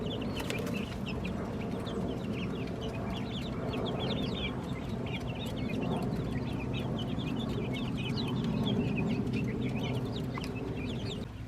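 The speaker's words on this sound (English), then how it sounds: "Chickens know what they need." Chickens kept in a tractor pen on grass cluck and chatter continuously at close range, a busy overlapping stream of short calls over a steady outdoor background with no talk.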